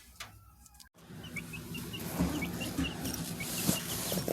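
Roosters and chickens cluck and chatter nearby, with several short calls scattered over a soft background after a brief rustle.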